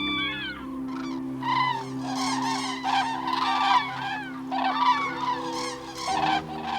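A flock of cranes calls before their autumn migration departure, with many overlapping trumpeting and honking cries, loud and continuous over a steady low hum.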